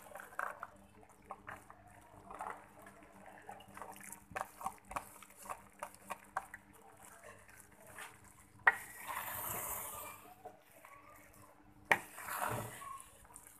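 Beef cooked with peas in a pot is stirred and turned over, giving a string of scraping clicks and spoon knocks with soft sizzling underneath, plus two louder bursts of frying hiss later on.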